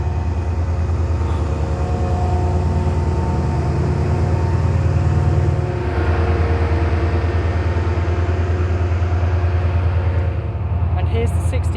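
A Class 68 diesel locomotive at the head of a train gives a loud, steady engine drone with a deep low rumble that continues throughout, while a voice can be heard talking nearby.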